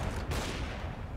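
Shotgun fire in CS:GO, a brief, dense burst of loud gunfire blasts packed closely together.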